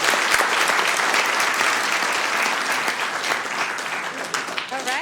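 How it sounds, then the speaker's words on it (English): Attendees at a Sacramento City Council meeting break into loud, dense applause that holds steady for several seconds and thins slightly toward the end, with a voice speaking over it. "Round of applause, everyone."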